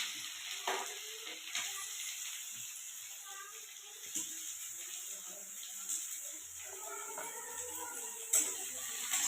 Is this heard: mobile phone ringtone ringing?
no